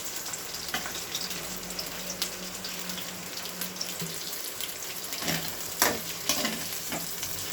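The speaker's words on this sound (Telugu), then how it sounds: "ఇది అంతా మిక్స్ చేసి ఒక 2 నిమిషాలు వేగనియాలి" Eggs stir and fry in a pan, a steady hiss of sizzling with occasional scraping strokes of a spatula, close and continuous.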